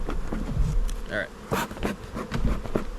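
A swarm of honey bees gathered on a front porch gives off a steady, dense buzz close by, while a voice talks over it now and then.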